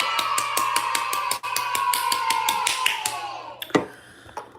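A round of applause: a rapid series of sharp, regular claps over a sustained tone, close and fairly loud, ending in a louder thump before fading out.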